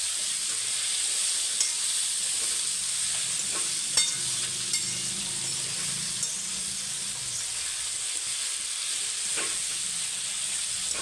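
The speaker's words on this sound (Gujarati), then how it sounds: "આ રીતને પછી મિક્સ કરી નાખવાનું." Chibhda (a kind of melon) vegetable being stirred and mixed in a frying pan for a village-style Kathiyawadi dish, with a steady close sizzle and occasional scrapes of the spoon, no talking.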